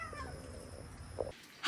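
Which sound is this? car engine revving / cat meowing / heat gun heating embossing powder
cat meowing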